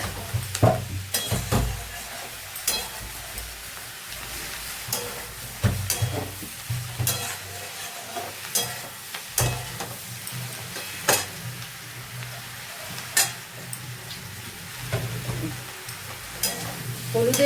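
Mustard paste mixed with water, turmeric and poppy seed paste fries in a pan, giving a soft steady sizzle. Regular close scrapes and clinks of a spatula stirring the mixture break through it at intervals.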